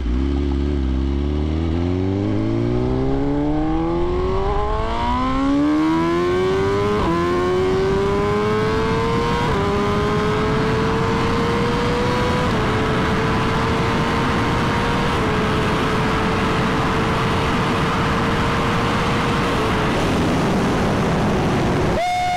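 A new 2023 BMW S1000RR motorcycle engine roars and climbs through the gears, each upshift marked by a drop in pitch and a renewed rise, loud and sustained with a steady ride-along drone.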